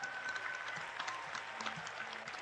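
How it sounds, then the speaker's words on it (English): Audience applause at a high school scholarship night, a steady wash of clapping from a crowd lasting the whole moment, fairly quiet and distant, with no talk over it. "let's give Danny and Rachel a round of applause"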